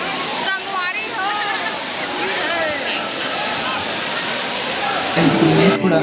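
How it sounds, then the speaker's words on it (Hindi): Waterfall pouring down at the Jatmai Ghatarani temple, a broad steady rush of falling water with a crowd of people talking and shouting over it throughout. "कितना मस्त झरना गिरत है ऊपर से नीचे"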